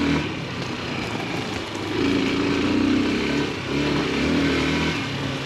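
A Bashon Brozz Recon motorcycle on knobby tires rides off-road after a carburetor tweak, its engine droning steadily close by, with rising revs in the middle and a rough, buzzy tone under wind noise.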